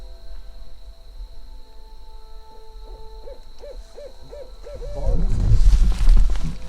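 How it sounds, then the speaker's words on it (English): An owl hoots at night in a Kentucky forest, a series of five or six short, evenly spaced hoots over a steady hum of insects, followed by a louder rustling burst of noise close by. "Well, at least the owl's out."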